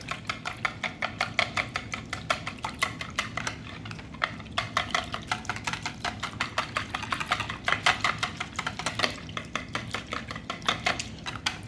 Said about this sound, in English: And let's whisk this together. Beat that egg up.